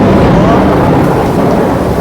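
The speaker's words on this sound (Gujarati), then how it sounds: "જોરદારનો કડાકો થયો" A loud, deep thunderclap rumbles over steady heavy rain and wind, filling the short stretch with heavy low-pitched noise.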